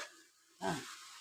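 A lid lifted from a pan of amaranth greens palya gives a sudden soft whoosh of steam and sizzle after a quiet moment, close and brief.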